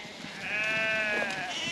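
Sheep, a mix of Bluefaced Leicester crosses, bleat on a farm as the first lot is brought in, a long wavering call rising then holding steady at moderate distance over faint background noise.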